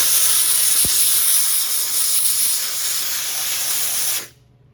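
A steam cleaner blasts a steady, loud jet of steam onto a car engine during degreasing, hissing continuously for about four seconds before cutting off abruptly, with no talking.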